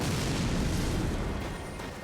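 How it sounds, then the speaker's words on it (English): Explosion effect in the video game Elden Ring: a loud, dense rumbling blast that fills the whole stretch and fades slightly toward the end. "We'll make an explosion effect."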